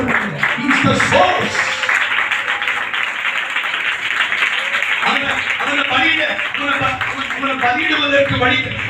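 Church congregation clapping during a Tamil sermon, a dense wash of hands continuing throughout, with voices and cheering mixed in over the steady applause.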